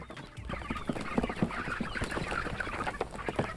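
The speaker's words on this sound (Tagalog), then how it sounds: "Release the chickens." Flock of Rhode Island Red chickens clucking in a pasture after release, many overlapping close clucks and calls in a busy, continuous chatter.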